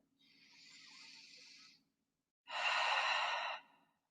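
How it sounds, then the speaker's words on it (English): During a yoga session a person breathes audibly, with a soft, drawn-out inhale lasting over a second, a brief pause, then a louder, airy exhale. Both breaths are close and quiet, with no speech. "Breathe."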